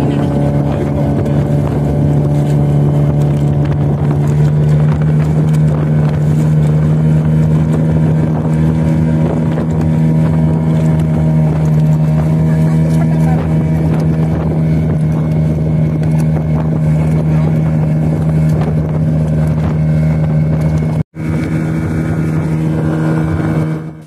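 A motorboat travelling on the sea, its engine droning loudly and steadily with a strong low hum and wind rushing past, close throughout, with a brief cut near the end.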